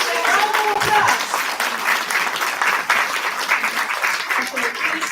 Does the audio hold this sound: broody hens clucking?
no